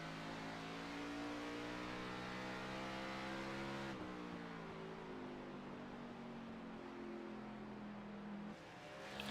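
NASCAR Xfinity race cars roaring around Richmond Raceway, a loud, continuous engine drone whose pitch slides down and shifts as the cars pass and change speed.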